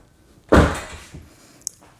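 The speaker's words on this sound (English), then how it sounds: "And then we're going to close the door." A Tesla car door swings shut with a single solid thump, followed by a brief fading rattle and a small click, heard alone in a quiet space.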